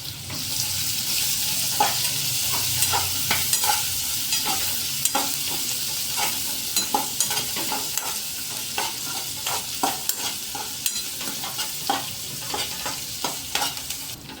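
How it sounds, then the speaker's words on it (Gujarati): Chopped onion being stirred into a mashed rotla mixture for a garlicky snack, a steady scraping stir with repeated soft clicks and knocks of the spoon against the bowl, close and continuous with no talking. "બધું બરાબર મિક્સિંગ કરી લેશું અહીં મેં કાંદો સમારીને રાખેલો છે તે નાખી દેશું"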